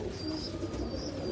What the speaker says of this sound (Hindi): नहीं बड़ा कबूतर है ये